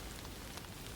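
Gentle rain falling during a countryside walk, a soft, steady, faint patter and hiss with no voices, even in level throughout.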